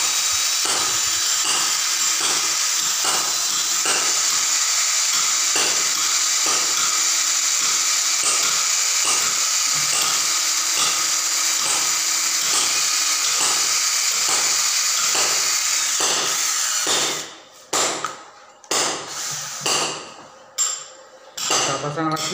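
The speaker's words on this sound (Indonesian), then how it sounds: "Nah, ini burnya pakai paku, jadi mata burnya tidak beli," An electric drill fitted with a nail as its bit whines loudly with a steady high hiss, then cuts to short bursts of starting and stopping near the end.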